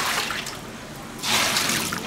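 Tap water runs steadily while vegetables are washed for homemade radish pickles, a close splashing stream that grows louder and fuller partway through.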